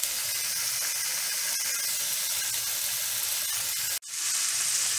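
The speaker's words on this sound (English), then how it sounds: "We're going to go ahead and dump our beef chunks in there, and we're just going to brown them on all sides." Beef chunks browning in olive oil in a hot skillet give a loud, steady sizzle and hiss throughout, cut off by a brief near-silent gap before the frying noise returns.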